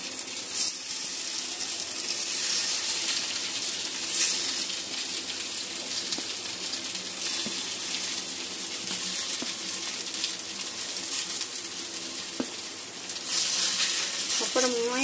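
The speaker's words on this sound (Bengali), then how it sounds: "তেলটা আমার ভালোভাবে গরম হয়ে গেছে। এবার যে মোমোগুলো আমি স্টিম করে নিয়েছিলাম সেই মোমোগুলো একে একে এর উপর বসিয়ে" Steamed momos fry in hot oil in a pan, a constant bright sizzling hiss with occasional clinks and small pops as pieces are set down one by one, close and steady throughout.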